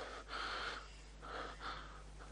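A man recovering after fainting breathes heavily in a quiet room, with two or three faint, drawn-out breaths and no talking.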